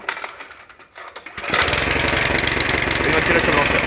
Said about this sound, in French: on vient gentiment tirer sur son lanceur